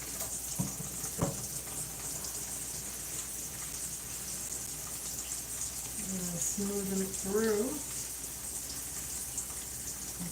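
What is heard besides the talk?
running water wetting hair during wash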